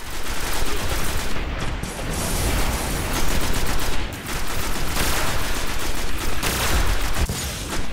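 Rapid bursts of gunfire in a Destiny PvP match on the Moon map fill the space, dense automatic shots and fusillades rattling almost continuously and loudly, with only brief dips between volleys.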